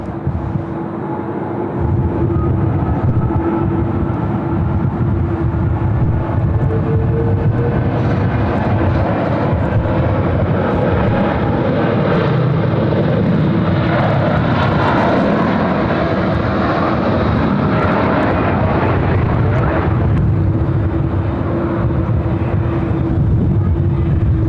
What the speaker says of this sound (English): That's a long takeoff roll as well.